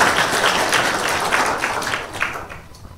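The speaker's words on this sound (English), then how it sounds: "Please, a round of applause for Sharon." Audience applause at a Kīngitanga Day 2015 talk on cybersecurity and scams, a brisk burst of many hands clapping that is already under way and thins out and fades over about three seconds.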